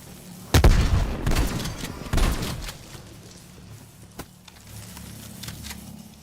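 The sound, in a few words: frag grenade thrown and exploding in Call of Duty video game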